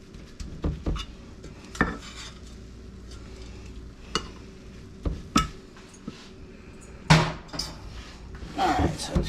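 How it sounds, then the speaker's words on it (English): Chocolate oat bar mixture being patted down into a pan, with scattered soft thumps and occasional clanks of utensils against the pan at an irregular pace, fairly quiet and close. "So I'm going to put half the mixture in the bottom of the pan. I'm going to pat it down."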